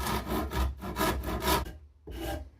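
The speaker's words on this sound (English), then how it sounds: "Now, that's the end rounded off using the rasp" A rasp files the wooden end of a traditional English walking staff, rounding it off in rhythmic scraping strokes, about five close, loud passes with a short pause before the last.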